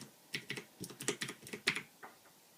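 Fast bursts of typing on a Ducky DK9008 Shine II keyboard with Cherry MX Blue switches, crisp close clicky keystrokes in quick irregular clusters, alone and fairly quiet.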